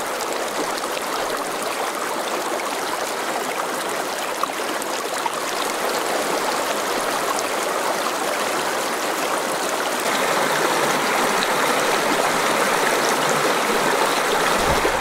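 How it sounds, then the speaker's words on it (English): Creek water flowing steadily behind a campground, a broad continuous rushing and trickling wash, close and even, growing slightly fuller near the end, with no voices. "We can hear the sounds of the water flowing through the creek behind us."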